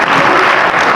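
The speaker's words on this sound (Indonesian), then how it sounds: "mari kita berikan tepuk tangan yang meriah." A loud, dense burst of audience applause at an international Ganoderma symposium in Bandung, steady and close for its whole brief length.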